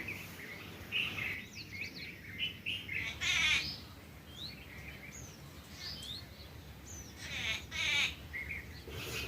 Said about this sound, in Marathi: आज साळंकी माझ्या पुढं कुहू कुहू करायची